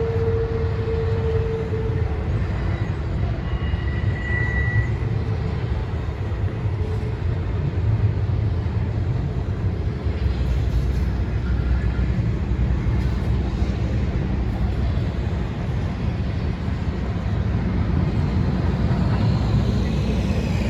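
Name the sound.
Norfolk Southern freight train passing in Bluefield, WV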